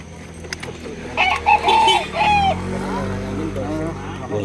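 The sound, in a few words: fighting roosters at a roadside market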